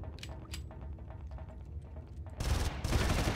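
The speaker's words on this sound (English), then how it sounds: "that shooting was abysmal." Rapid gunfire in the video game Far Cry, a dense fusillade of shots building to a louder burst near the end, with no talking.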